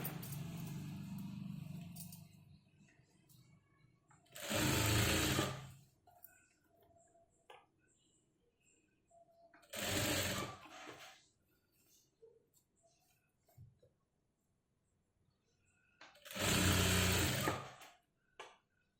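An electric sewing machine stitching blouse neck piping without cord runs in three short loud bursts, separated by quiet handling, fabric rustle and small clicks.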